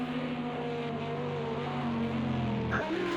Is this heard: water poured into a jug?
no